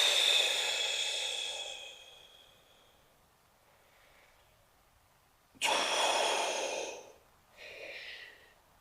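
Deep, slow breaths during a hamstring stretch, with a long airy exhale at the start and then two more strong, close breaths after a quiet pause. No talking.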